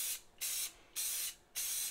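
Three short bursts of aerosol spray paint, lightly dusted onto a kitchen backsplash, close and hissing, separated by brief pauses in a quick, even rhythm.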